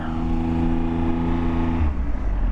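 A 2014 Triumph Tiger Explorer motorcycle rides on the road, its engine a steady, loud, close drone with a shift in pitch near the end, with no talking.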